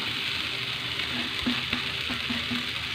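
Bread poha with tomato and masala frying in a pan, a steady hiss of sizzling with a few soft stirring scrapes, close and even, no voices.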